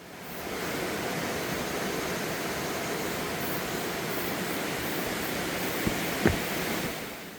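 Guryong waterfall on Jirisan pours with a constant, dense roar, steady and enveloping throughout, with a single small knock near the end.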